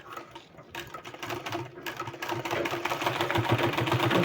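A sewing machine runs continuously close by, stitching a decorative sleeve design with a fast, even mechanical clatter that grows slightly louder toward the end.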